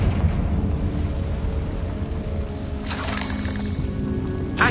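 Confringo fire spell blast in Hogwarts Legacy on PS5, cast inside a spider-infested tomb: a steady low rumble underlies everything until a bright, crackling burst erupts midway and trails off, with another sharp flare at the very end and no voices.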